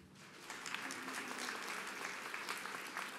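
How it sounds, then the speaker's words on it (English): A commencement audience claps together in a steady, dense wash of applause that carries through the whole stretch, with no speech over it. "everyone who engages in social media, whether that's Facebook, Twitter, Instagram, whatever, clap your hands"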